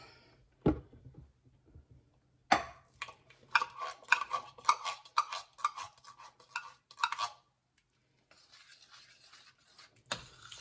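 A utensil stirs a pot of homemade shrimp linguine sauce with half and half, giving a run of quick scraping, clinking strokes against the pan, close and fairly clear, then a few quieter scrapes and a final knock.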